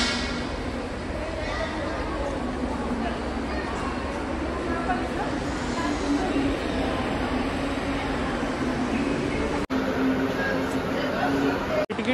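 A passenger train rolls along on a trip to Mumbai, a steady, close rumble of wheels and carriage from inside the car, with people talking throughout.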